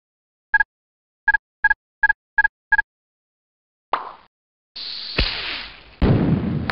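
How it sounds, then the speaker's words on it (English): Fraction fireworks in the Mighty Math Number Heroes video game: six quick evenly spaced tonal blips, then a short whoosh and three bursting pops with crackling, clear and alone. "You're making beautiful fireworks!"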